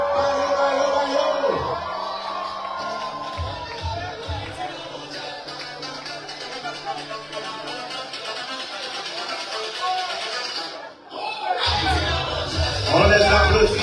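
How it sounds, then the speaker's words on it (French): An indoor Toronto community crowd cheers, whoops and applauds while welcoming the Haitian men's national football team, with a lively sustained roar that dips briefly near the end before swelling again. "on les applaudit"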